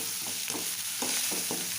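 Crushed ginger and garlic sizzle in a hot pan with oil, with several scraping stirs of a spatula heard clearly over the continuous frying hiss.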